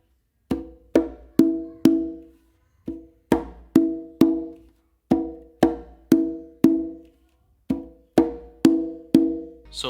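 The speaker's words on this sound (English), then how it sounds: "And then you're going to follow that with two opens with your dominant hand on the conga." Hand-played conga in a tumbao figure, a bass slap followed by two open tones, repeated in steady groups of crisp, resonant strikes with brief pauses between, close and unaccompanied.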